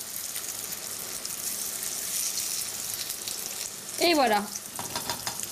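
Food for a rice dish goes into a very hot frying pan and sizzles steadily, with a sharper burst of frying partway through and someone talking briefly in French.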